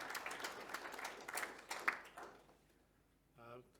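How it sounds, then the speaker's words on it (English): Audience applause at an AusCycling roadshow event in Adelaide, a fairly faint, steady patter of many hands that fades out, followed by a brief voice at the end. "keep the applause coming for the chair of BMX, Darren Alomes."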